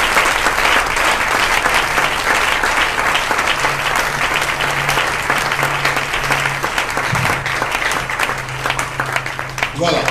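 A church congregation applauding steadily and fairly loudly for about ten seconds during a French-language service, dense sustained clapping with a low hum underneath.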